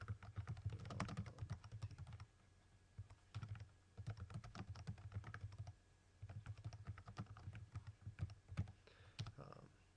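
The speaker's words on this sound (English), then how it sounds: "then you can start typing" Keys on a computer keyboard clack in quick, uneven bursts with short pauses between, close and fairly quiet while entering a to-do item in Basecamp project software.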